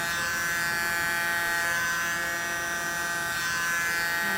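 Small electric blower aimed at an acrylic paint pour, a steady close buzzing motor drone with an even whine and no talking.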